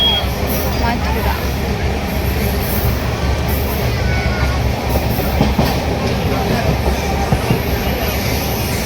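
A train rumbles with a steady, loud roar of rolling wagons on the way from Delhi to Mathura and Vrindavan, and voices talk over the noise throughout.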